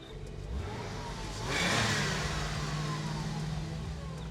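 A car engine revs up, its roar swelling to a peak before settling into a steady idle, close by with no talking.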